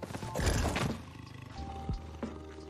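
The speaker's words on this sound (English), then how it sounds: "I hear a tiger." A tiger roars in a misty survival video game, a couple of deep, rough bursts up close against a steady ambient background, with a few fainter growls trailing after.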